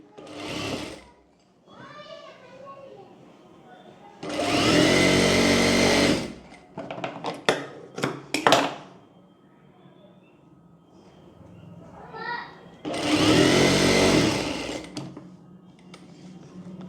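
Kurti fabric is folded at the edge and run through a sewing machine in two loud, close bursts of fast whirring stitching. Quieter stretches of fabric handling and faint clicks come between the runs.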